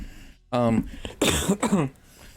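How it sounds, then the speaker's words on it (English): A person gives a loud, close cough followed by harsh throat-clearing in a few bursts, with speech-like voicing mixed into the sounds. "You're going to start off by coughing loudly?"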